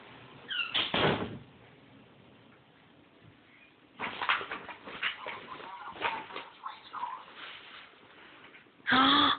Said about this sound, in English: You want to close the door with Stelly?